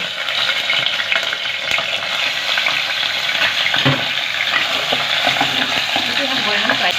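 Chicken pieces frying in a karahi for a chicken white karahi: a loud, dense, continuous sizzle close by, with occasional stirring clatter and no voice over it.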